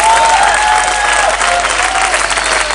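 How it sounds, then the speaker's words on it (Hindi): Dense, loud audience applause fills a television bridal show studio, a continuous wash of many hands clapping with a faint crowd murmur underneath. "तालियां बजाइए"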